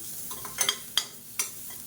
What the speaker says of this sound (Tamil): இப்போ கால் கப் அளவுக்கு துருவின தேங்காய் சேர்த்துக்கலாம் இப்போ இதை நல்லா வறுத்துக்கணும்